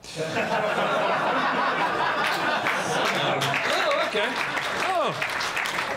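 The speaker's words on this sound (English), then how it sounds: "the applause has come in early today" Audience at a stand-up comedy show breaking into steady applause mixed with chuckles and laughter, filling the room throughout while a voice speaks briefly over it.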